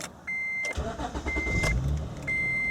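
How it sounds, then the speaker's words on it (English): A car engine cranks and catches, settling into a steady idle, with a thin electronic beep chiming a few times over it. "So let's start the car."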